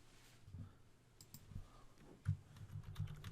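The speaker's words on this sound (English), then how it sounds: "I'll type in here," Faint, soft clicks of typing on a computer keyboard come in an uneven run of keystrokes in a quiet room.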